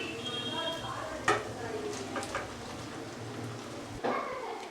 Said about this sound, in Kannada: ನಾನಿವಾಗ ಇದಕ್ಕೆ ರೈಸ್ನ ಹಾಕ್ಕೊತಾ ಇದ್ದೀನಿ